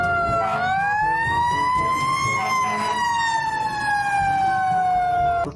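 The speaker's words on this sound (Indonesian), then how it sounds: "Widih, ada mobil damkar." A toy fire truck's electronic siren wails in a smooth rising and falling tone, close and clear, with a faint buzzy undertone and light handling noise.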